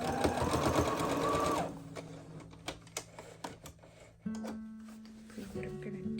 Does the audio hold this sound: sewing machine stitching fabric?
yes